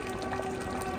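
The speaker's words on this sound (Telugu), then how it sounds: "ఇక్కడ చికెన్ ఉడుకుతుంది" A pot of chicken for biryani bubbles and simmers softly and continuously, a quiet watery churning of boiling liquid.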